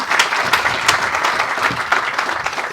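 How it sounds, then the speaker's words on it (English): An audience at a hospital foundation celebration for a new mobile mammography coach claps loudly and briskly, with some individual claps standing out, for a few seconds with no talking. "Round of applause for that."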